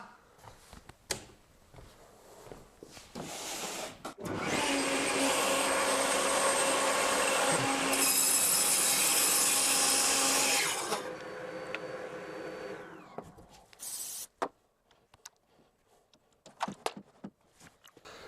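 A power saw spins up and cuts through wood for several seconds with a loud, sustained whine, then winds down, followed by scattered knocks and handling noises.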